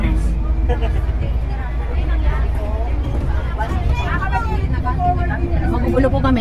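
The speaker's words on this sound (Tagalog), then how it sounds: "So nakasakay po kami sa bus." Inside a moving bus on the way to Sentosa: the engine rumbles steadily and loudly while a group of passengers chatter and laugh together throughout.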